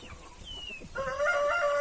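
Chickens cluck and call close by, with a brief rising bird call early on and stronger, sustained tonal clucking in the second half.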